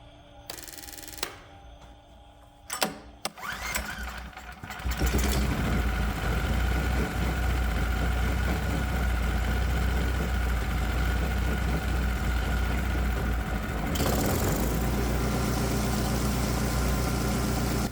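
A Predator 212 small engine running on electronic fuel injection drones steadily and loudly at a constant idle after some brief mechanical clatter at the start, with a slight shift in tone partway through.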